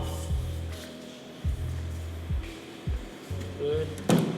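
Fire truck compartment doors are slammed shut one after another during a pre-trip inspection, five or six sharp, close thuds spaced about a second apart, with a brief squeak near the end.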